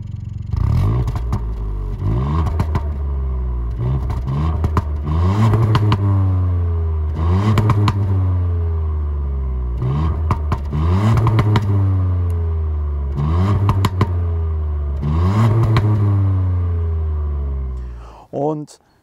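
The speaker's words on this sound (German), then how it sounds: "eine schöne Edelstahl-Auspuffanlage mit Klappenfunktion. Wie die klingt, hören wir uns jetzt dann auch gleich nochmal an." Ford Puma ST with a stainless steel exhaust and valve, engine revved repeatedly in sharp bursts that rise and fall, loud and close, with a short quiet gap near the end.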